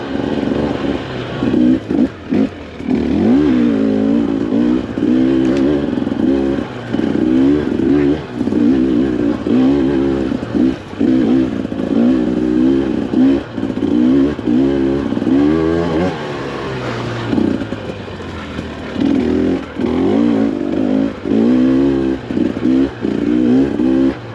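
A KTM 300 Factory Edition two-stroke dirt bike revs hard and repeatedly on a fall trail ride, its loud, rising and falling engine note dipping briefly before surging again.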